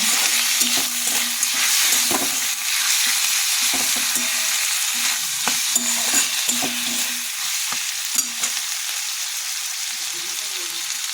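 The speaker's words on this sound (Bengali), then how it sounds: "জিরে গুঁড়ো, সামান্য চিনি দিয়ে ভালো করে কষবো" Spices with cumin powder, salt and a little sugar for a mixed vegetable dish sizzle steadily in a pan. Repeated scraping strokes of a stirring spatula sound close over the continuous frying hiss, with no talk.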